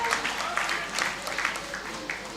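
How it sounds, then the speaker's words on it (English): Graduates at a university congregation ceremony for prison inmates in tertiary education give a steady burst of clapping. The applause is moderately loud and continuous, with individual claps blending into a dense patter throughout. "you have to applaud yourselves"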